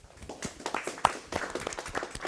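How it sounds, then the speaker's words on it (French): Applause from the audience at a talk show on racism in schools, a short, fairly quiet patter of scattered hands clapping in an irregular rhythm. "Applaudissez-vous s'il vous plaît."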